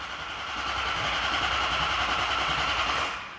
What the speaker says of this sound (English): let's see if this helps start this engine up.